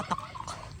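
A brief, faint gobble from a turkey on an onion farm, a short warbling call a little distance away.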